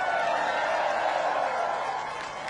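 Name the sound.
crowd applause during presidential speech in Ireland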